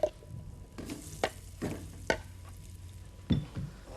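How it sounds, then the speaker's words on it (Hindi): Gram flour (besan) roasting in ghee in a pan, a soft low sizzle broken by a few scraping stirs of a spoon at irregular intervals. "और इस बेसन को भूनना है हमने इस घी के अंदर।"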